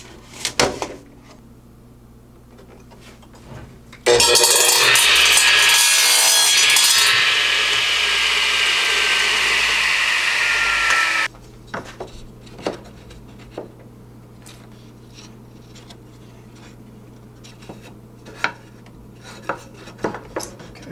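A hand saw cuts through a piece of scrap wood in a loud, continuous rasping stretch of several seconds, with scattered clicks and knocks from handling before and after.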